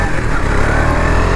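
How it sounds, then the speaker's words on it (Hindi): KTM Duke 250 BS6 motorcycle engine accelerating in first gear, a loud, steady, close-up roar that holds throughout, with no talk over it. "इंजन बहुत स्मूथ है BS6 का भाई"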